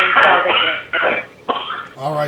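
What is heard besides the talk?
man coughing in the background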